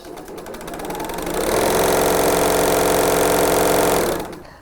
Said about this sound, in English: The Bernina L890 come with DC motor and Bernina foot control, sewing between 250 and